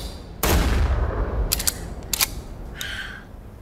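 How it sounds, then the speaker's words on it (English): A loud gunshot in a film trailer bursts out sharply and rings into a sustained roar, followed by a few quicker cracking shots and a brief tonal hit near the end. "There is one more gunshot, and then the crowning line of the trailer."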